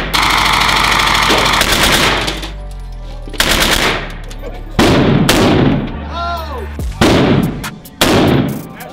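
Bursts of real automatic gunfire from MP40, StG and PPSh firearms, loud and close, with rapid rattling volleys separated by short pauses and people talking between them.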